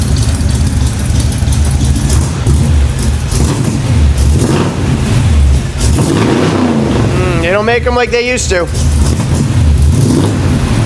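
A loud, rumbling Yukon truck engine with Cherry Bomb mufflers idles and revs nearby with a deep throaty exhaust burble, while someone talks over it.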